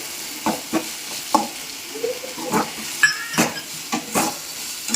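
A spoon stirs ginger paste and coriander powder into a chicken curry in a pan, with repeated scraping strokes over a soft frying sizzle, close and moderately loud, no voices.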